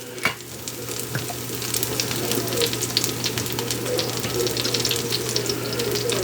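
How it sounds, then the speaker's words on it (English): Avocado oil, about half a cup, sizzling and crackling steadily in a hot pan for shrimp and crawfish étouffée, with a constant frying hiss throughout and no talking. "I'm going in about a half a cup avocado oil."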